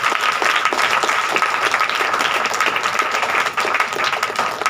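A congregation at a Hindi-language Christian church service breaks into loud, sustained clapping, a dense steady patter of many hands that carries on for several seconds with no talk.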